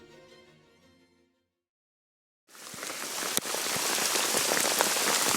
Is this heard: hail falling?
yes